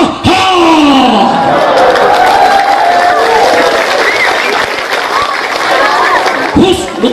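A large crowd at an Islamic sermon gathering in Indonesia claps and cheers in a dense, sustained roar, with a voice calling out over the noise.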